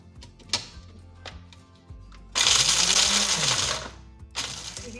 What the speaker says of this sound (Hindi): इसको भी हम बिल्कुल बारीक पीस लेंगे पाउडर की तरह।